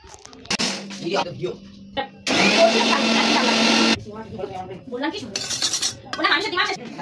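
A blender grinds tomato, garlic and chili into a paste in a home kitchen, a loud steady whir lasting about a second and a half, surrounded by clattering dishes and cutlery, with a person talking before and after.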